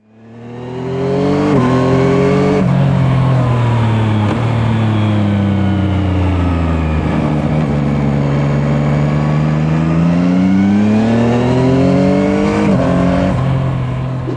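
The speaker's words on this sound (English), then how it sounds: "it's going to hopefully pick up a bit of exhaust sound or engine sound" A car engine and exhaust, picked up by a pocketed action camera, drone loudly and steadily with revs rising and falling through several gear-like steps over about fourteen seconds, close and continuous with no talking.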